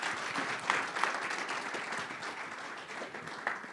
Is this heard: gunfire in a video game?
no